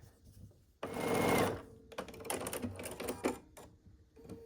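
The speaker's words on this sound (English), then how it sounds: "So I'm matching one on top of the other here and sewing it together." A sewing machine stitches quilt block pieces together in fast, close mechanical bursts. A long run is followed by shorter stop-start runs with brief pauses between them, and no voices.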